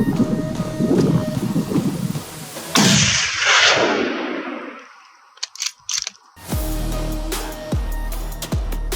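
A rifle shot fired while hunting wild boar booms loudly and rolls away as a long echo across open country, followed by quieter wind and handling noise and a few low thumps.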